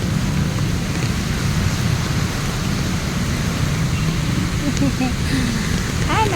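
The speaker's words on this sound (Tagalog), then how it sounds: "Ulan talaga." Steady rain falls outdoors among garden plants, a dense constant hiss with low rumble throughout, while someone talks briefly over it near the end.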